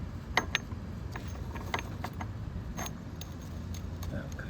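A new 16-tooth sprocket goes onto a KLR650 motorcycle with light metallic clinks and scrapes. The small taps come at irregular moments over a low background hum.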